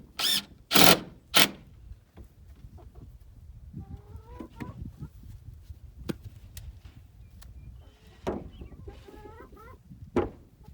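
A rooster named Mr. Roo crows and clucks near his hens at a chicken house, with several loud calls early, softer clucking and bird chatter through the middle, and more crows later.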